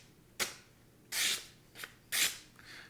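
Civivi Riffle knife freshly sharpened on a Work Sharp precision sharpener, making test cuts: four short, crisp slicing rasps spaced about a second apart, close and clear, with no talk.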